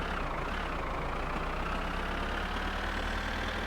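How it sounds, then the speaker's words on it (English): A car engine in the video game My Summer Car drones continuously at high revs in third gear, a constant mechanical roar with no pauses or talk. "Sat revving the bollocks off it in third gear"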